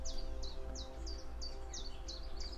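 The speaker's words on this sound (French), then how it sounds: "Écoutez les oiseaux." A bird in a forest repeats a quick descending chirp about eight times in a steady rhythm, fairly faint over a constant low background hum.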